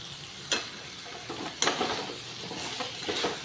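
Potato and boiled jackfruit are stirred with spices in a pan for a green-chilli jackfruit and prawn dish: a few scraping spatula strokes over a soft, steady sizzle, close by, with no talking.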